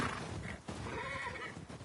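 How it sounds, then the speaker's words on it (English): A horse neighs in The Last of Us Part II, a close whinny rising and falling over a second or so, with faint hoof and movement noise around it. "I thought the horse would jump"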